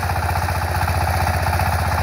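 Close, rapid rhythmic chug of a Dongfang 20 hp power tiller engine working a rotary tiller to sow jute seeds, loud and unbroken for the whole stretch.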